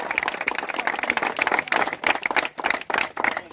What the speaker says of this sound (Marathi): आप्पा गाडी यांच्यासाठी सुद्धा जोरदार टाळ्या।